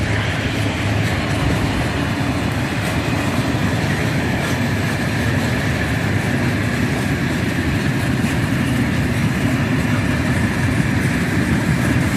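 A train rumbles past close by, a steady loud roar of wheels on rails with faint rhythmic clatter throughout.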